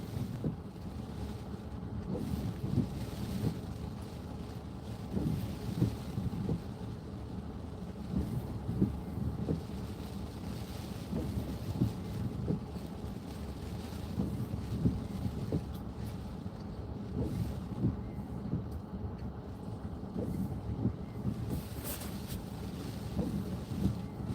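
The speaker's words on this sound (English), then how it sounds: "There's some waves." Ocean waves churning during a windstorm at Ocean Shores, Washington, a steady roaring wash with rushing wind noise on the microphone and no voices.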